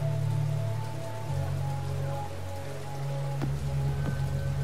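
Steady rain patters on a surface in the video game Yakuza 0, accompanied by low droning hum and tonal game ambience, with a couple of sharp clicks near the end.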